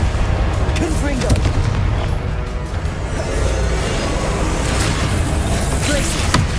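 Fire spell blasts in a video game sound as repeated booming, crackling explosions over a dense rumble, with someone talking over the action.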